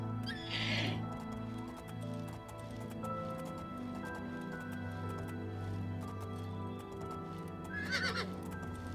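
A horse in The Elder Scrolls IV: Oblivion whinnies loudly at the start and again near the end, with soft hoof clip-clops and a steady game background hum between.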